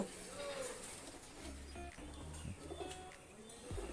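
High flying pigeons coo and chirp nearby in a loft, soft repeated calls heard beneath someone talking steadily over them.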